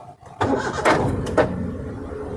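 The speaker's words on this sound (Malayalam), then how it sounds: "നമുക്കിനി വാഹനം ഒന്ന് സ്റ്റാർട്ട് ചെയ്ത് നോക്കാം" A car engine is started right after an OBD diagnostic scan clears its fault. There is a brief crank, then the engine catches and settles into a steady idle, close and fairly loud.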